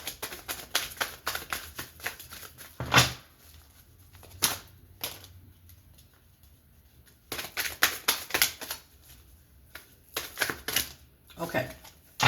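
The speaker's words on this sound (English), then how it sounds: "I'm going to shuffle this real quick." Bursts of rapid riffling and snapping as a deck of cards is shuffled several times, separated by quieter pauses.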